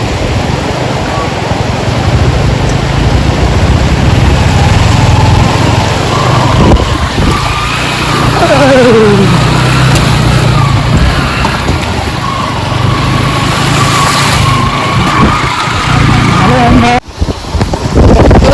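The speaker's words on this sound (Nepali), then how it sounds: "पहिला स्कुटर गएको हेरौँ न है कताबाट जान्छ त्यो" A scooter rides past on a forest road in Sindhuli, Nepal, its engine whine rising and falling over heavy wind buffeting and steady background noise, with voices talking nearby.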